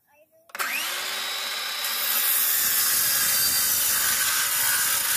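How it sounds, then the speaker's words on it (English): A power saw plunging into a wood board, guided along a straight edge, spins up abruptly and then holds a loud, steady whining cut close by for several seconds. "So that worked as a plunge cut there."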